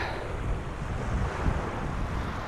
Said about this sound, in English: She be windy. She be very windy.